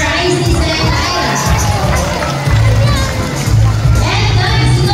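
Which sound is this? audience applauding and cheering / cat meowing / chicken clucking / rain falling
audience applauding and cheering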